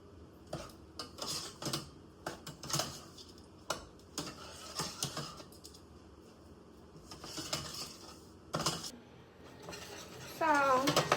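Candied sweet potatoes being stirred in a pot on a stovetop, giving intermittent scraping and clinking of a utensil against the pan with soft bubbling, spread across the stretch at a modest level with a slight sizzle near the end.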